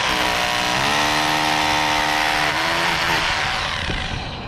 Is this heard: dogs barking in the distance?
no